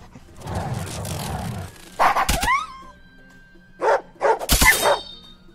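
Dog units in the Wargroove strategy game let out sharp, loud barks and yips in several short bursts, some clustered in quick succession, over a quiet low hum.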